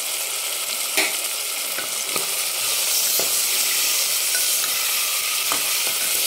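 Mutton frying with turmeric in hot oil, a continuous bright sizzle close by, with occasional light clicks and scrapes of a spatula stirring in the pan.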